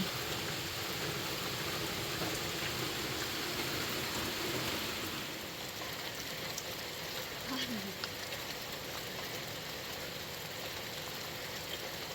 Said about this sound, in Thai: ฝนเศร้าตกละ